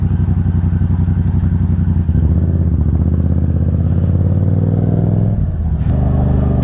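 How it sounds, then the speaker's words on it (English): A 600cc-class motorcycle engine idles loudly and steadily nearby, its low throbbing rumble shifting slightly as the clutch is let out and the bike starts to move, with no voices. "you can release the clutch slowly and the bike will start moving"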